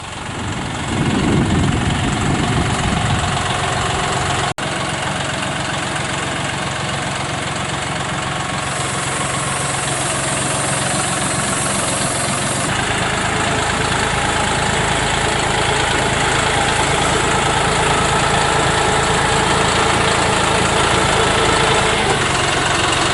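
A John Deere 5075 tractor idles steadily close by for the whole stretch, a constant mid-pitched engine drone with a brief clunk early on as a Ranch King blind is unloaded, no talk.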